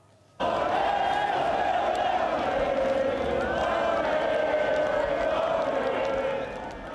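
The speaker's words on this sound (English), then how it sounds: "celebrations erupted with large crowds of fans waving flags, cheering and chanting" A large crowd of football fans in Toronto's Little Italy roars and chants, a sustained, loud wall of cheering that starts abruptly and holds steady before easing slightly at the end.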